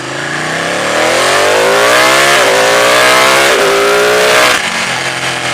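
A Ducati 899 Panigale V-twin motorcycle engine revs steadily, its deep throaty exhaust note rising and falling in pitch, close and continuous throughout.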